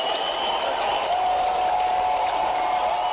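Strong audience applause at a Fit India event in Bhopal, a loud, continuous roar of clapping with crowd noise and a sustained ringing tone running through it.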